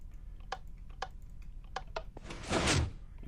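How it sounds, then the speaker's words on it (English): A Minecraft redstone combination-lock door swings open: a few faint keyboard-like clicks, then a brief louder whoosh and thunk of the door moving, close and with no talk. "the door will open"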